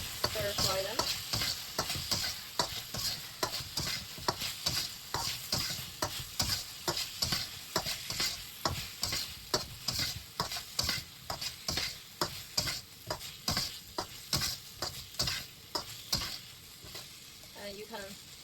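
Meat stir-fried in a pan with a spoonful of paste for a Spring Festival dish, a loud close sizzle broken by quick rhythmic spatula scrapes all the way through, with a voice now and then.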